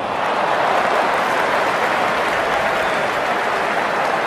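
A cricket stadium crowd applauds a boundary four at an India versus Australia match, with dense, steady clapping and cheering that holds loud and even throughout.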